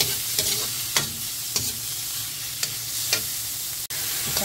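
Pork fries in olive oil with a continuous sizzle close by, while a utensil scrapes and stirs the pan at roughly half-second intervals. One sharp click is heard near the end.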